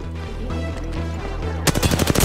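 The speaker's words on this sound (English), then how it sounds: "Some drunk is shooting at me." Gunfire erupts in an Apex Legends-style battle game: rapid bursts of loud shots crack near the end, after a stretch of rhythmic pulsing background sound.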